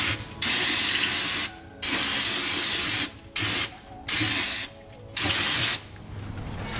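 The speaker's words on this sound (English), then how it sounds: "Also have some brake clean." Brake cleaner sprays onto a RAM 1500 truck engine cover in loud, close bursts, five long hissing jets separated by short pauses.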